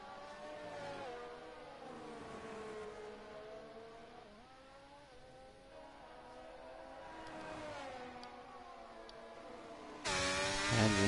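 A race car engine in a racing esports game at Bahrain hums and rises and falls in pitch through gear changes, fairly quiet and continuous, ending in a sudden louder burst of noise.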